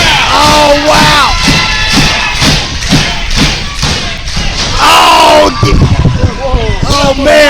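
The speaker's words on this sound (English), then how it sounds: "Listen to that crowd" Arena crowd at a live pro wrestling show roars and cheers continuously, with heavy thuds from the ring and an excited commentator talking loudly over the noise throughout.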